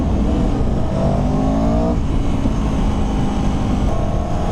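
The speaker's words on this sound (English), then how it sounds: "I'm barely pulling on the throttle and it does that." Aprilia or Moto Guzzi motorcycle engine revving on light throttle, a steady loud close drone with a rising tone that swells and eases, heard alone.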